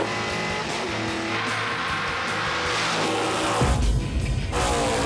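A 1988 Ford Mustang with a 5-speed manual roars down a drag strip under full throttle, its engine note climbing and then dropping sharply at each gear change, loud and continuous with tire noise.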